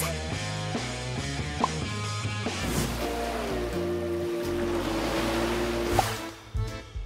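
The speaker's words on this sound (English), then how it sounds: "Yeah, the sea." Sea waves washing and surging, steady and fairly loud, as though listened to through an earpiece, over a layer of background music.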